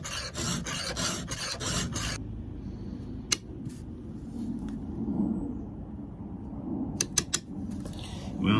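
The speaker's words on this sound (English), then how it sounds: "When you have an old file, it's going to take you forever to sharpen these things." A hand file rasps a Husqvarna 395XP chainsaw chain in loud, rhythmic strokes for about two seconds. Quieter scraping and a few sharp clicks follow, close up and with no talking.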